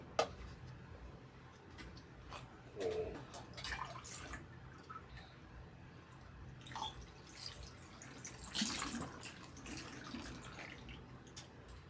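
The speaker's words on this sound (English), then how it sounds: "rinse the whole head again" Running water patters and drips faintly while hair is rinsed under a tap, with soft splashes and a few louder bursts spread through an otherwise quiet scene.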